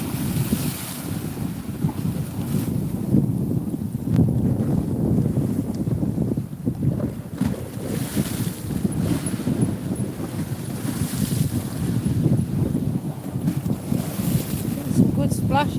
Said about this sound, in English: Some good splashes just there